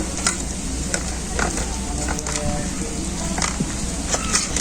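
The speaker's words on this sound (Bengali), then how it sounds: "ভর্তাটা সব কিছুর সাথে এভাবে মাখিয়ে নিয়েছি।" Mashed eggplant bharta with fried chillies, onion and salt is kneaded and mixed by hand, producing a close, continuous wet squelching and soft slapping with irregular little smacks.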